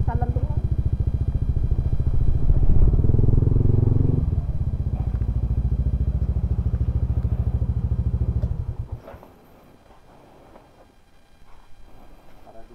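A motorcycle engine idles loudly and steadily near a white sand beach in Aklan, then cuts off abruptly near the ninth second, leaving quiet background.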